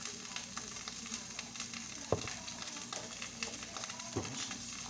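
A seasoned egg frying in a pan gives a steady, close sizzle and crackle that runs without a break, with a few soft scrapes from a utensil working the egg so it won't stick.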